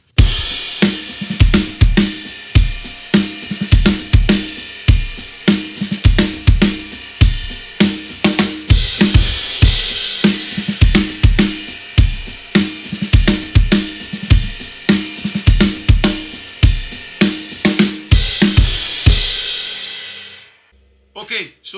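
Drum kit playing a groove as a repeating four-bar loop: punchy kick and snare hits with steady cymbals, loud and close, ending with a ringing decay.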